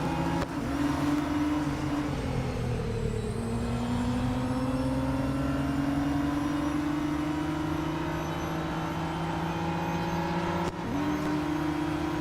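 Radical RXC race car in Real Racing 3 at Monza, engine droning steadily at high revs for several seconds, pitch sliding through gear changes with a brief shift dip near the end, no speech.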